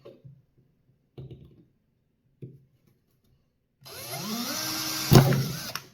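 A power drill bores holes into metal for a homemade alcohol stove, whining loudly and steadily for the last couple of seconds with a sharp grinding peak, preceded by a few soft knocks and handling sounds.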